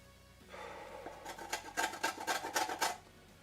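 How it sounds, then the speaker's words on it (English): Limes are grated for zest in a home kitchen while making a raspberry and lime cheesecake. A rapid series of close, raspy scraping strokes builds into a quick rhythmic burst before stopping, with no voices heard. "Grating zest. Really takes the pith."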